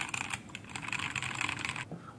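Typing on a Ziyoulang T8 budget 65% mechanical keyboard with deep, bouncy switches: a steady run of close, fairly muted keystrokes, alone with no talking, ending in a final key press.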